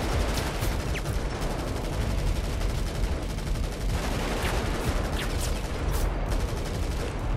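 Dense, continuous gunfire from the video game GTA V, rapid overlapping shots and bursts filling the whole stretch at a steady, loud level with no speech over it.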